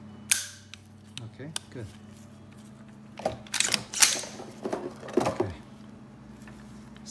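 Function test on a Colt LT6720R police duty rifle after cleaning: sharp mechanical clicks and metallic snaps of the action come in scattered bursts, close up, with a brief spoken remark.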